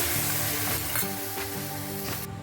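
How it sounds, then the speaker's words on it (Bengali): Mustard and coriander-cumin powder added to a hot pan for an amaranth and chickpea dish, bringing a loud continuous sizzle with stirring scrapes and a sharp cut-off at the end. "এখন আমি যে সরষো আর ধনে জিরার যে গুঁড়ি রেখেছি এটা আমি অ্যাড করে দেবো"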